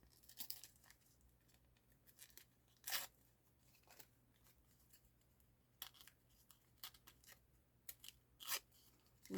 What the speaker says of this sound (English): I'm going to tear some of this off because I think that's too much.